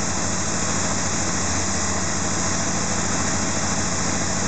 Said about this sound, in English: You may even hear the slight change in the engine note.